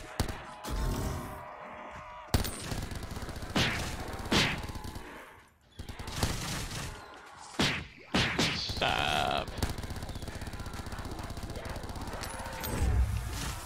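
Gunfire in Black Ops 3 Custom Zombies on the MK Arcade map: repeated sharp shots and impact bursts in irregular volleys over about fourteen seconds, mixed with whooshes and busy game noise.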